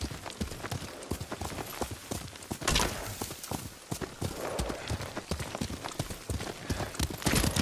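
Horse hooves gallop in a fast, steady clip-clop during a ride in the video game Ghost of Tsushima, loud and close, with wind rushing and an occasional whinny.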